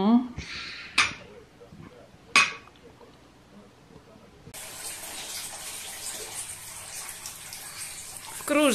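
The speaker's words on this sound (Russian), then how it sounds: "В кружечку наливай." Water is poured into a mug from a tea set in a bathtub: a few clinks and a voice come first, then a steady, close splashing rush of running water.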